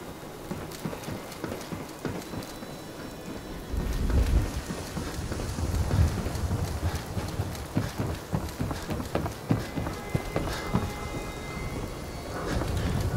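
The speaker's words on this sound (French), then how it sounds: "Ah, il pleut." Rain pattering steadily in Fallout 4, with low rolling thunder swelling partway through, a dense constant wash of drops with deeper rumbles beneath, close and enveloping, no talk.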